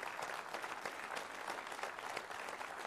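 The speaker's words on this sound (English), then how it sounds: "big round of applause for" An audience applauds Preston Manning at a conservative gathering, a dense, steady wash of many hands clapping at once without a break.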